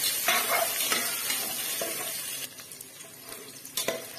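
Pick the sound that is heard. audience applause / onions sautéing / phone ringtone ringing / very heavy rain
onions sautéing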